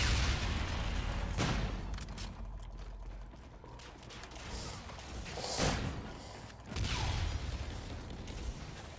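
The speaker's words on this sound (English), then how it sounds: "Flo, stop shooting at me." Gunfire in Call of Duty: Infinite Warfare, dense mechanical clatter of shots with sharper bursts near 1.5, 5.5 and 7 seconds, loud and continuous throughout.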